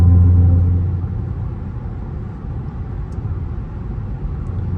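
Dodge Hellcat cruising down a highway, a loud deep engine rumble with a strong steady low drone that swells at the start, then settles into continuous road and drivetrain noise.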